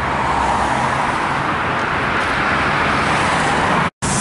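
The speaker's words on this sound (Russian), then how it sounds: "Проезд маршрутки." A marshrutka minibus drives past on a street in Ryazan, a loud, continuous close engine and tyre rumble mixed with city traffic noise that cuts off abruptly near the end.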